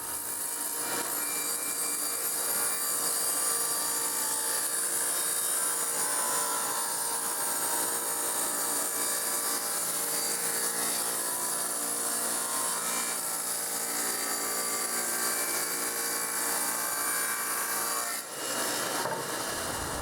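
Power saw cutting a 45-degree bevel on wooden boards for Christmas luminaries, a loud continuous whining motor and grinding cut held steadily for about eighteen seconds before it spins down, close and with no talking.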